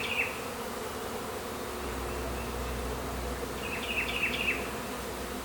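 A honeybee swarm moving into a wooden box makes a steady, dense outdoor buzz, with a few louder close passes of individual bees rising above the hum.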